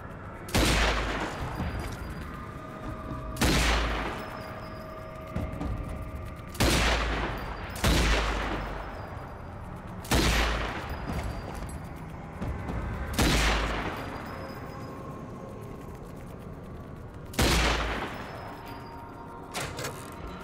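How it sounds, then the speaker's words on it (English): Gunshots in the zombie shooter game Zombie Army 4: Dead War ring out as about eight loud, separate rifle cracks, each followed by a ringing decay, spaced a few seconds apart with quiet ambience between and no talking. "head back to the other wall and spell out brains by shooting the lights"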